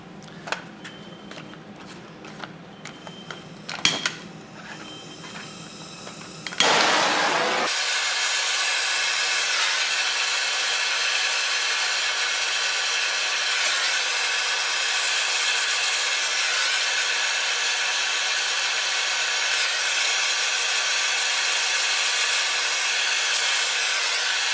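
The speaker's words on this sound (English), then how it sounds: "so I'm going to get the torch back out." A torch runs as a steady, loud broadband hiss while it heats a Tikka T1x rimfire rifle action to loosen a tight prefit barrel. Shop noise and handling clatter come first, then the flame roars on evenly for the rest.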